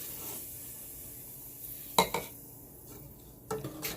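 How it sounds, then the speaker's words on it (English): Vegetable stock and herbs stirred in a pot for a marinara red sauce: a soft swirling scrape, then sharp clinks of a utensil against the pot rim, close and moderately quiet. "we want to stir up this as much as we can"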